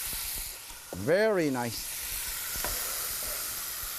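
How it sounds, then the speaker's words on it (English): Chilean sea bass frying in a pan, giving a steady sizzle under a short spoken remark. "While I'm pan frying this"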